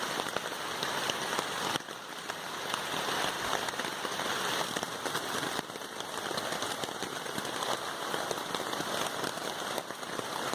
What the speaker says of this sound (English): it continued to rain, and it rained all night long